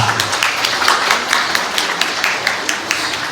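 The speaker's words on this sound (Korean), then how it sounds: "다 함께 축하의 박수 한번 크게 부탁드리겠습니다" Wedding guests applauding the bride and groom at a ceremony hall, a full, steady crowd clapping with many overlapping hands and a few stronger claps standing out, loud and continuous throughout.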